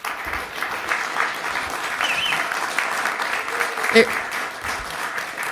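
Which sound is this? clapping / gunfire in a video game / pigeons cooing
clapping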